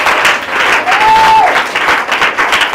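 A church congregation at a deliverance service claps and cheers in praise of God, a loud, dense burst of applause with a brief voice rising above the crowd.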